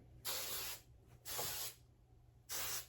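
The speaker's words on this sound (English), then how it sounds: "And now I just kind of pull out and spray to add more volume everywhere" Three close, loud hissing bursts of extreme hold hairspray misted through wavy 2B/2C curly hair, each about half a second long, separated by quiet gaps with a faint low hum underneath.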